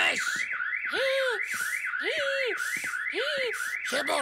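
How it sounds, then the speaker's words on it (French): A school fire alarm in a French cartoon, a loud warbling siren rising and falling in a fast steady cycle, with voices talking over it at intervals. "cette fois-ci, c'est l'alarme incendie"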